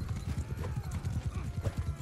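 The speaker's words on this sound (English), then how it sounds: "Horse charge." A cavalry charge in Mount and Blade II: Bannerlord rumbles with many hooves clip-clopping quickly and densely in an unbroken drumming gallop, moderately loud, with faint battle noise behind it.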